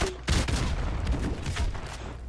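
A grenade explodes in Call of Duty Modern Warfare after bouncing off a wall. A loud, close blast is followed by dense rumbling and crackling gunfire-like bursts that continue throughout.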